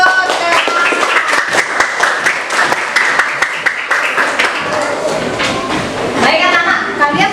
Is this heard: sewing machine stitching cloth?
no